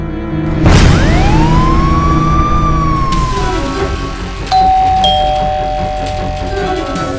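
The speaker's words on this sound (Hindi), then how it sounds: "डोरबेल बज रही है" Electronic doorbell ringing indoors, a loud sweeping tonal chime followed by a second steady two-tone ding, clear and close with no talking over it.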